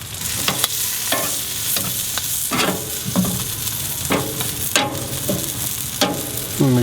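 Chicken wings sizzle on a Kamado grill as they are flipped, a steady frying hiss broken by several sharp scraping and clacking turns of the tongs, close and fairly loud.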